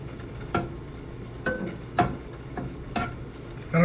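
Macaroni sauce being stirred and browned in a pan, a spoon scraping and knocking in several distinct strokes at an uneven rhythm over a soft, low sizzle.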